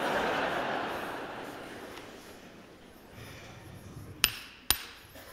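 Two sharp hammer blows on a chisel ring out close and loud in quick succession near the end, following several seconds of soft, hissy background.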